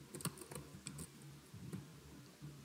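Keys tapped on a computer keyboard in irregular, quick bursts of clicks, fairly faint and close, with short pauses between strokes and no talking.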